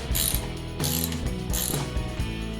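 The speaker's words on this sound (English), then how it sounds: "Just tighten these guys down a little bit, but we still want to be able to move the bracket around." A hand ratchet clicks rapidly in close-up while snugging the bolts of an LED grille light mounting bracket, with several bursts of ratcheting strokes and short pauses between them, no voices.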